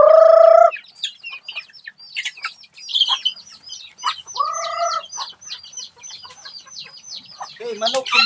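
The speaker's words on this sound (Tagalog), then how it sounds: "Ito yung mga native natin na manok guys." Native chickens cluck in a rapid, busy chorus outdoors, near and fairly loud, with a short crow-like call at the start and a person speaking briefly.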